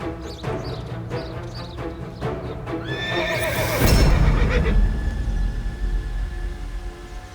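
A horse whinnies loudly and close, a long shrill neigh, after a run of hoof clops and thuds, with snorting and low rumble continuing afterward.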